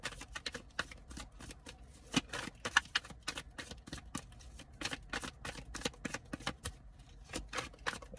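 Tarot cards shuffled by hand during a reading, a steady run of crisp riffling flicks and soft slaps, close and fairly quiet, with no talking.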